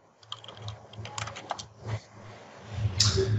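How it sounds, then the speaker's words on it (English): Typing on a computer keyboard, a run of close, irregular key clicks and taps with a few louder strokes near the end, heard on its own without talk. "I'm not typing in the right place."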